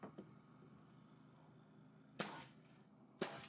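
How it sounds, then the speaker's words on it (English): A nail gun firing into cedar shiplap boards during an entry remodel: two sharp, loud pneumatic bangs about a second apart, each with a brief hissy tail, over quiet room tone. "I measured as best I could and nailed the first board in."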